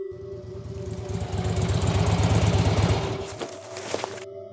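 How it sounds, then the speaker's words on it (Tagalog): Motorcycle engine in an audio drama, a close chugging idle that swells as it pulls up, then cuts off abruptly, followed by a couple of faint knocks and quiet. "may narinig kami na tunog ng motor na huminto"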